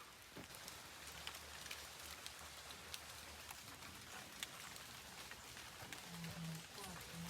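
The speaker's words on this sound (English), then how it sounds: "it started to drizzle" Light drizzle falls outdoors in the Jamaican mountains, a faint, steady patter of scattered raindrops over several seconds, with a brief voice-like tone near the end.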